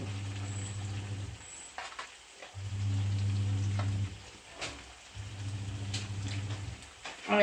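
Unniyappam batter sizzles steadily in hot oil, with loud frying bursts that stop and restart in several stretches and a light crackle between them, close by with no talk.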